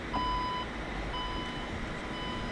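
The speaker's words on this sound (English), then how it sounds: "And it should give us a couple beeps when it's done." A 2019 Porsche Macan S sounds three short electronic confirmation beeps, evenly spaced and fairly faint, as it closes and locks.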